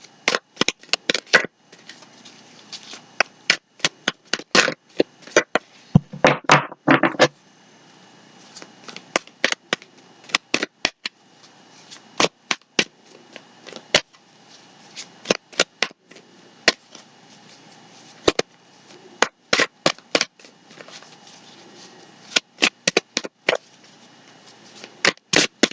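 Tarot cards are shuffled and handled up close in repeated quick bursts of papery riffling and slaps, separated by short quiet gaps, with one longer, denser shuffle partway through.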